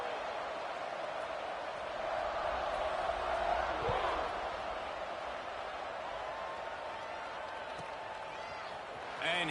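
Virtual stadium crowd in the College Football 26 video game around a kickoff, a steady broad roar at moderate level, swelling slightly midway.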